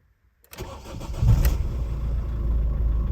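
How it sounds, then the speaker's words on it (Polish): A Ford Focus Mk2 engine cranks briefly, catches and settles into a steady idle after an immobiliser fault fix, close and loud with no talking. "Samochód pali normalnie."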